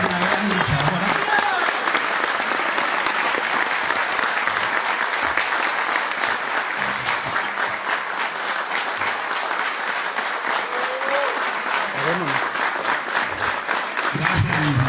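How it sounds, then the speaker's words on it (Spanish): An audience at a formal event applauds a speaker, a dense, steady round of clapping that holds for the whole stretch with faint voices underneath. "Agradezco otro aplauso a la licenciada Karen Fisher por ser una gran luchadora."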